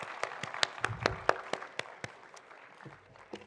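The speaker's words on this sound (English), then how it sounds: "Round of applause for Asad and LC" A small audience at an arts festival talk claps for two guests, the crisp individual claps sparse and fairly quiet, thinning out toward the end.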